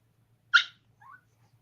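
A jealous dog outdoors lets out one sharp yelp followed by a soft high whine, two brief sounds in near silence.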